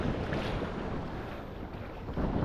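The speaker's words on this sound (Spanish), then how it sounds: "Fijaros qué olas más bonitas." Sea waves at a beach with swimmers nearby, a steady broadband wash of surf with wind noise on the microphone, no voices.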